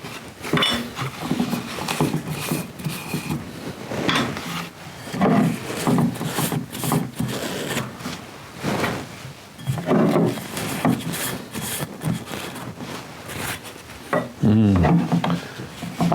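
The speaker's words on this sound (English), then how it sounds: "Okay, so let's get all these lids off." Lids are pulled off a row of bourbon containers, a busy run of close clattering, knocking and scraping sounds in irregular bursts.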